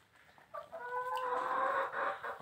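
Laying hens cluck softly at close range in a quiet coop, a few overlapping calls rising and fading over about two seconds.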